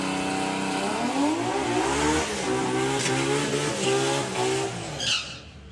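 A six-cylinder drag racing car launches down the strip at a doorslammer event, its engine revving loud with rising, stepping harmonics as it accelerates away, then fading at the end.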